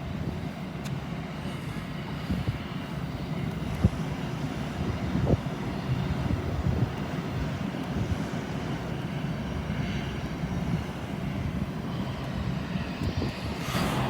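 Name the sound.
Aer Lingus airliner arriving at airport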